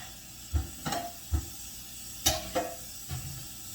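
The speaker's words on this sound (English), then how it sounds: "I like my vegetables to be sauteed a little bit." Vegetables sautéing in a saucepan for seafood gumbo: a low background sizzle broken by several short clattering stirs and scrapes of a utensil, close and moderately loud.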